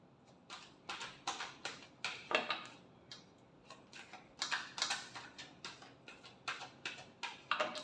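Tarot cards shuffled by hand in a quick, crisp series of riffling flutters and light taps, repeating close up and alone with no talking.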